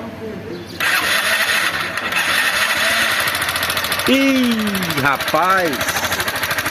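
A motorcycle with a worn cylinder kit starts and settles into a steady idle with a thin, rattling mechanical noise, close by, while someone speaks briefly over it.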